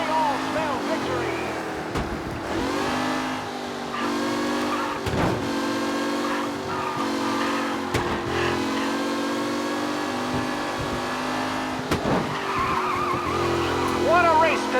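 Race cars speeding around a track in the Mafia Definitive Edition video game, engines revving and whining with tire squeals and skids, loud and continuous while a commentator's voice talks over the action.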